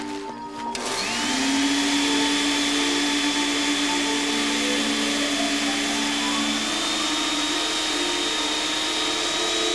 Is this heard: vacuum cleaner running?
yes